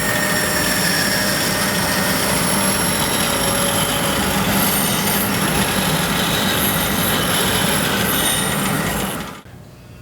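A workshop band saw runs loud and close as a continuous broadband roar with a high whine, then winds down abruptly near the end.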